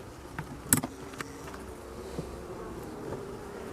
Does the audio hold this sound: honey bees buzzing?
yes